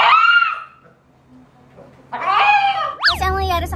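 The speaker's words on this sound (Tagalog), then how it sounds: "parang iyak siya ng iyak, sigaw siya ng sigaw" A husky puppy sick with distemper virus cries and screams in high wavering wails, heard from a played-back recording: one drawn-out cry, a quiet gap, then louder rising and falling shrieks up close.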